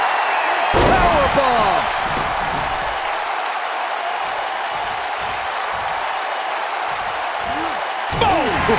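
During a professional wrestling match at the Super J-Cup, a wrestler hits the ring mat with a heavy thud near the start, then a crowd roars steadily and commentators talk over the arena noise.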